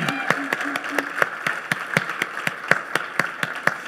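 Studio audience clapping steadily as a football player and his mother walk to the stage on a talk show, a crisp, even rhythm of sharp claps from a modest crowd, without talk.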